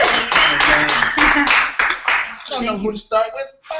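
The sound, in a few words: applause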